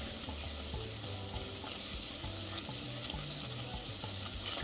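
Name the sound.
butter and flour roux sizzling while whisked on stove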